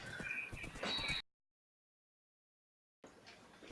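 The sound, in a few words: horse neighing in Minecraft video game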